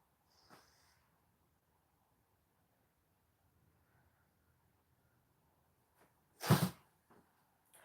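A single sharp sneeze from a person with hay fever, loud and close, bursting out after a long quiet stretch with only a faint earlier snort or breath.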